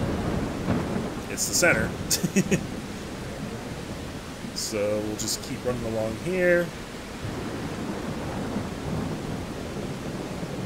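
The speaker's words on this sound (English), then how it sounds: "I love the rain effect in this part of the game." Rain and rumbling thunder from the video game Ico on PS3 form a steady, low wash of downpour with deep rolls, running throughout beneath someone talking midway.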